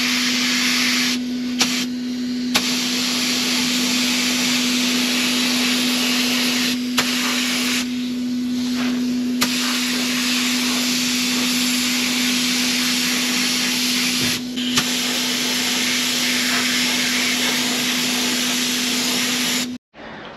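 Steady spray hiss of paint being applied to a freshly needle-gunned ERF truck wheel hub, loud and continuous for about twenty seconds with a few brief pauses and a constant hum underneath, ending abruptly.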